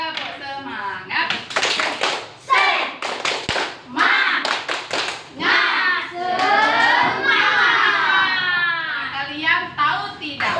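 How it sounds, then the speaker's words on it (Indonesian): A classroom of children performs a rhythmic Indonesian spirit clap, bursts of unison hand claps alternating with children's chanting voices, loud and close throughout. "kita tepuk semangat dulu biar semangat"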